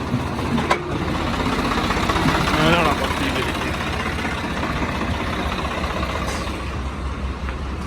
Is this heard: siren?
no